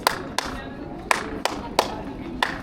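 Hand claps ring out inside a stone hall of Agra's Red Fort, six sharp slaps spaced unevenly with a short echo trailing each, over faint background murmur.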